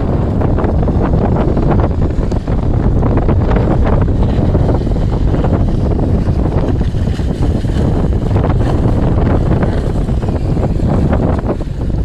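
Wind and water surge loudly and steadily around a ferry crossing to Mersea Island in Essex, with constant wind buffeting over a broad rumble of waves and the boat moving through them; no one speaks.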